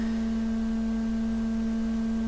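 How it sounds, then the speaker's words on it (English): A Z80 computer outputs a steady, stable sine wave tone at one constant pitch, held evenly for the full length with faint hum beneath and no speech. "hopefully you can hear the tone and you can see the sine wave on the scope"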